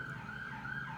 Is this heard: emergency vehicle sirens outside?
yes